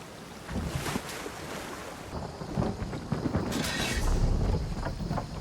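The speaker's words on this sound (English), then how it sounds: "We ride the raft over to Whalefall, find Anton, then leave." Water sloshes and rushes steadily as a raft drifts along toward Whalefall in The Elder Scrolls Online, with gusty wind and a low rumble underneath, with no talking.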